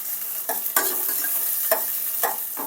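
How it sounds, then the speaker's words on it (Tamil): Food sautés in a hot pan with a steady, close sizzle, broken by several scraping strokes of a spatula as it is stirred. No one speaks. "நல்லா வந்து வதங்கிட்டு இருக்கு"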